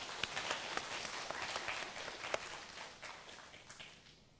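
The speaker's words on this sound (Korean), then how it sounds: "고생해주신 두 분께 박수 부탁드립니다" Light, sparse applause from a conference audience after a cross-polarization photography demonstration, with scattered individual claps that fade out toward the end.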